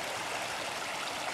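A river flows with a steady, broad rushing hiss of water that stays even throughout, close by and with no voices.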